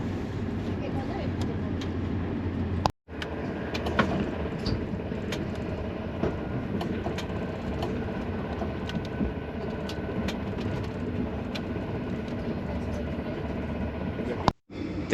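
Continuous rumble of an Ouigo high-speed train running on rails near Madrid, steady and dense, with faint clicks and a couple of brief dropouts.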